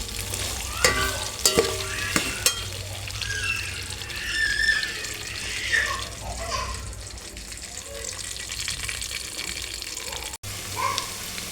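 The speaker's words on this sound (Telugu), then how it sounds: "ఆలు కట్ చేసుకున్న ముక్కలు వేసుకొని కొంచెం వేగనీయాలన్నమాట" Potato pieces frying in a pan for a broad bean curry, with steady sizzling, a few sharp clinks of stirring early on, and some faint talk in the background.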